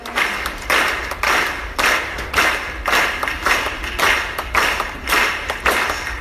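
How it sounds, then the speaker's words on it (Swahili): A church congregation claps quickly and steadily in a large hall, the rapid claps merging into regular bursts of rhythmic applause that swell and dip about once a second. "Ongeza makofi kwa haraka wakati tunarudi kwenye viti vyetu."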